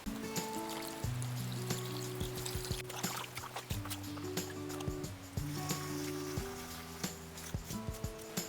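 Water runs and splashes steadily over mutton leg bones as they are rinsed in a kitchen before going into soup. It is a close, continuous trickling and pouring with some light clatter, and no talk.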